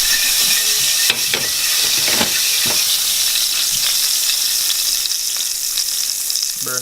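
Curry powder frying in a hot pan for curried chicken feet, a loud, steady sizzling hiss throughout, broken by sharp pops and scraping stirs.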